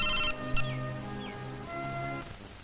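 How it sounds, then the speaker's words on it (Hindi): A mobile phone rings on an outgoing call, a bright electronic ringback tone in short repeating bursts with steady pitched tones between them, fairly clear and with no talking. "मैं एक बार और विक्रम को मोबाइल कर देती हूँ।"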